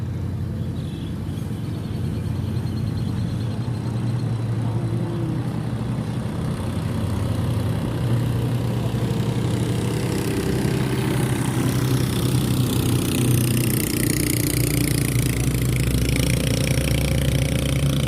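Boat engines drone steadily as several boats wind back and forth along a river in Thailand, a continuous mid-low engine hum holding at moderate loudness with no talk.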